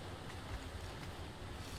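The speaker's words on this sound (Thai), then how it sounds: "น้ำตกมันดังมากเลย" Constant rushing roar of a waterfall in the video game ARK: Fjordur, an even, unbroken wash of water noise with no voices over it.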